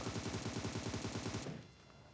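A rapid burst of automatic gunfire in a video game close-range fight, about a dozen evenly spaced shots, stops abruptly and leaves a faint hum.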